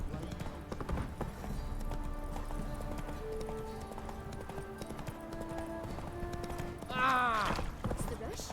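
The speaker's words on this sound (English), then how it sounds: "Whoa there, Roach. Remember me? Stable hand pulled you out of the fire" Horse hooves clip-clopping in the video game Witcher 3, a steady trotting rhythm under continuous character dialogue, with a brief whinny near the end.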